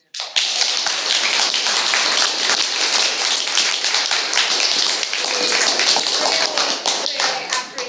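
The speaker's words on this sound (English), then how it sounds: "Let's give a big applause to" An audience applauds with steady, dense clapping that stays loud and continuous for about eight seconds, a few voices faintly mixed in.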